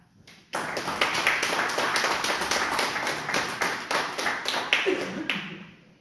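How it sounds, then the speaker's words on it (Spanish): Audience applause at a book presentation, a burst of many hands clapping that starts abruptly and stays steady and close for several seconds before thinning out at the end. "Te vamos a despedir con un fuerte aplauso"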